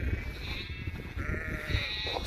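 Sheep and growing lambs bleat on a summer mountain pasture, a few overlapping calls near and farther off over outdoor wind noise.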